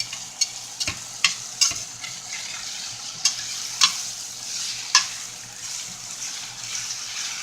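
Ground beef sizzling in a pot while a utensil breaks it apart, a steady frying hiss punctuated by sharp scraping and tapping strokes at irregular intervals, close up.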